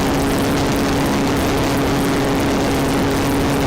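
A loud, steady engine drone with a constant hum from a running Trembita missile engine, running without a break.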